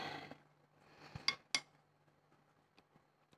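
Metal teaspoons clink sharply a couple of times against a glass jar or bowl while lacto-fermented cucumber juice is spooned out, two bright close taps amid quiet kitchen sounds.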